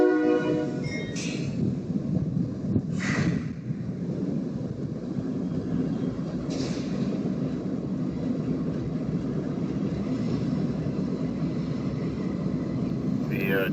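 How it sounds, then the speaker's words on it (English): A work train passes near San Luis Obispo with a steady, heavy rail rumble throughout, broken by several brief horn blasts, while people talk nearby. "The train's right behind the fire station."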